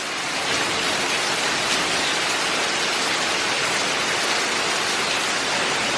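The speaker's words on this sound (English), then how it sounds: "That rain though. It is pouring." Heavy rain pours down during Hurricane Delta in Louisiana, a dense, unbroken hiss of water that stays loud and steady throughout.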